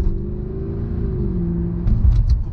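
Rear-wheel-drive Mercedes-AMG C63 with 457 horsepower, its engine droning in a steady low rumble from inside while driving, then swelling with a brief rev toward the end.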